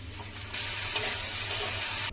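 Boiled chowmein noodles tipped into a hot pan for homemade veg noodles set off a sudden, steady sizzle after a brief quiet start. The frying hiss holds evenly for about a second and a half, then cuts off abruptly.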